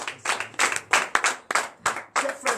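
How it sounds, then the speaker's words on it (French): A church congregation at a Sunday service in Benin claps in short, energetic bursts, each a loose flurry of hands rising and fading in an uneven rhythm. The sound is close and lively, with scattered voices mixed in. "Donnez l'acclamation."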